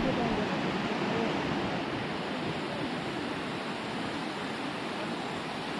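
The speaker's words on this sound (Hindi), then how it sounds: "पानी की आवाज़ बहुत ही अच्छी लग रही है" Flowing river water at the Garjiya Devi temple near Jim Corbett, a steady broadband rushing hiss that stays even and constant throughout, moderately quiet and alone.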